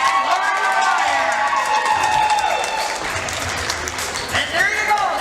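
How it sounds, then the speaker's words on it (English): A gym crowd applauds and cheers for Lady Hornets girls basketball players and their parents at Colby, with sustained clapping, whoops and a few shouts, loud and continuous throughout. "Big round of applause."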